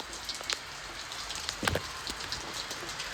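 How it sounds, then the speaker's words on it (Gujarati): Rain pours down in Patan, a dense steady hiss of drops on hard surfaces with scattered louder splashes and drips close by, no voices. "વરસાદ આવે વરસાદ ચાલુ થઈ ગયો"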